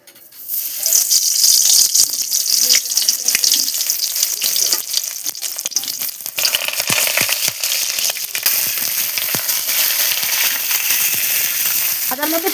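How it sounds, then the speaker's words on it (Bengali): Pointed gourds fry in hot mustard oil in a wok, giving a loud, continuous sizzle with dense crackling and spitting that lasts throughout. "এরপর আমি পটলগুলো ভেজে নেব।"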